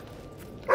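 Dog barking in the video game Fable 3, a short bark bursting in at the very end of a brief stretch of steady game background noise.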